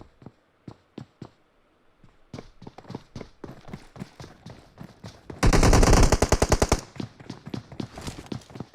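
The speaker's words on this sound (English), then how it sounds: "it looks like Myth Monster has gone down from a Uzi spray from Mime Jr." Uzi gunfire in the PUBG Mobile battle royale: scattered single shots and short bursts, then a loud, dense full-auto spray lasting over a second, followed by more rapid cracks at a moderate distance.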